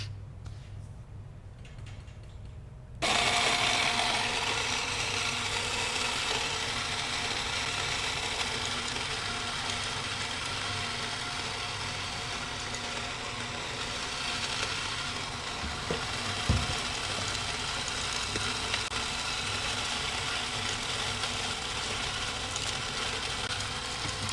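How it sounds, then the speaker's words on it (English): An electric coffee grinder starts abruptly after a few quiet seconds and grinds coffee beans for home batch brewing with a steady, loud mechanical whir that holds until the end. "I already have my coffee in the grinder. I'm going to grind it up"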